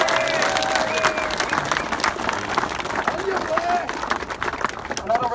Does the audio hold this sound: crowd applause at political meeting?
yes